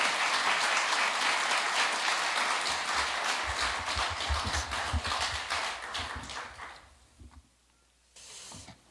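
A church congregation claps in welcome as a pastor comes forward, dense, sustained applause filling the room for about seven seconds before fading, then a brief second burst of clapping near the end.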